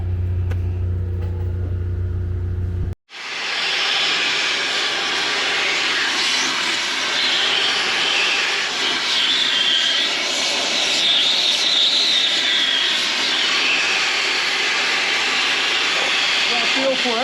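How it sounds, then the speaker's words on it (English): After a brief moment of talk, a gas cutting torch starts abruptly with a loud, steady roaring hiss as it cuts through thick steel during a dumper bucket repair, close and continuous. "I'll gas this bit out, as the plasma won't cut through that thick"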